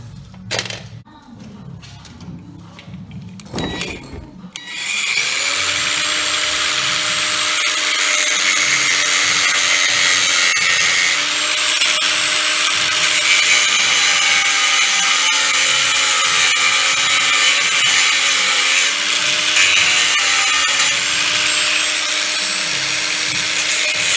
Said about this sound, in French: Donc nous on va venir la meuler pour avoir un petit peu de jeu comme ça